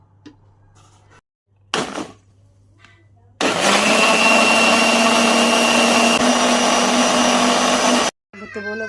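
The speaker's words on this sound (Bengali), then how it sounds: "যে আমি ব্লেন্ডারে এখন এগুলা ভালো করে ব্লেন্ড করে নেব।" A kitchen blender whirs loudly and steadily for about five seconds, a high motor whine with a constant tone, after some quieter handling noises and a brief burst; a voice is heard faintly before it starts.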